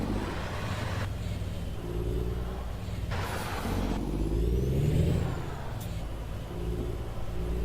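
A semi truck pulling a double trailer rumbles along with a steady low engine drone, recorded close from the cab, the engine note swelling and easing slightly as it moves.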